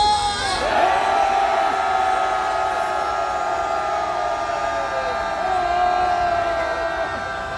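Crowd at a political rally outside the presidential residence in Hannam-dong, Seoul, cheering and shouting together as a sustained, loud roar with whoops throughout, a steady tonal drone running underneath.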